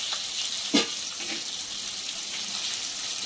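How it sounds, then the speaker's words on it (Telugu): Onions and curry leaves frying in oil for moong dal sambar, a steady soft sizzle with a brief clatter of stirring partway through, no voices. "ఇప్పుడైతే ఆనియన్ వేస్తున్నామండి, బాగా వేసుకోవాలండి వీటిని."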